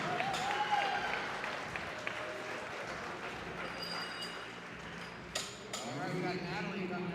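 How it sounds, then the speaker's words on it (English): A crowd at a powerlifting meet bursts into cheering and sustained applause after a state record lift, with an announcer talking over the steady clapping and a few sharp clinks. "The crowd goes nuts."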